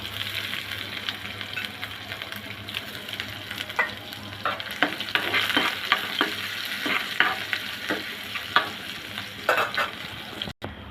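Chopped green chilies and onion fry for coriander leaf bhaji, a loud continuous close sizzle with frequent rhythmic scrapes of a spatula stirring the pan.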